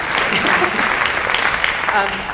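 Audience applause during a panel discussion at Study Hall LA, a dense continuous wash of clapping from a seated crowd, with voices faintly underneath.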